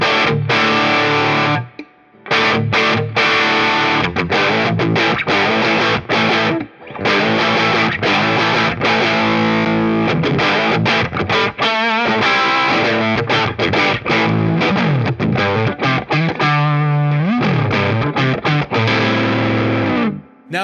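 A Yamaha Revstar electric guitar on its bridge pickup with gain plays loud, driven chords and riffs with brief pauses between phrases.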